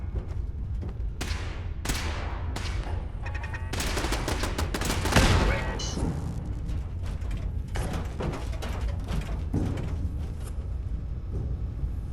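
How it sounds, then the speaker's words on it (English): Rapid bursts of gunfire and mechanical clatter from the video game Fallout 4, loud and dense, with volleys and single shots across the whole stretch and a heavier blast near the middle. "Opening fire."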